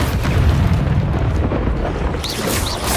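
A Confringo fire spell erupts in Hogwarts Legacy, a loud, sustained booming blast with crackling fire that fills the whole span, rumbling heavily in the low end with small bright flickers near the end.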